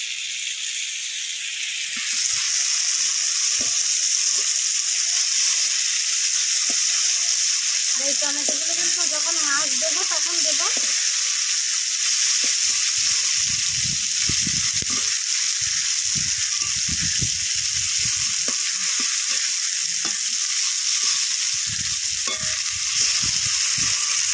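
Tomatoes and onions frying in a pan, a steady loud sizzle with hiss throughout, briefly broken by stirring and scraping sounds partway through.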